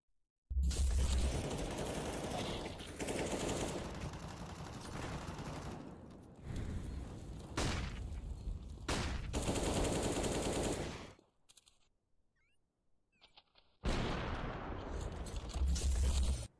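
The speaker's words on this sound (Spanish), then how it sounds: "Dispara Dupri, falla el disparo." Sustained rapid automatic gunfire during a professional Counter-Strike match, loud dense bursts filling most of the stretch, breaking off into a near-silent gap with faint clicks before another heavy burst resumes.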